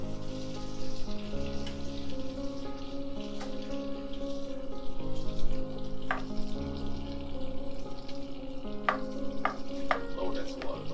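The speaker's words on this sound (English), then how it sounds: "Then when this butter is completely melted, then you want to turn the heat off." Butter melts and sizzles in an iron skillet, a steady fizzing hiss with occasional scraping stirs and clinks, while a low hum runs underneath.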